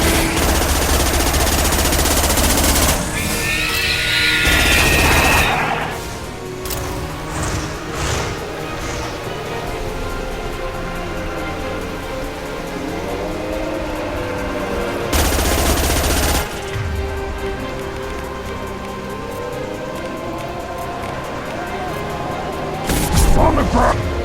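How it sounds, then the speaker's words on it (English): Rapid high-impact gunshots from the Mass Effect Legendary Edition video game fire in loud bursts amid ongoing combat noise, with voices shouting over the action. "Firing a high-impact shot."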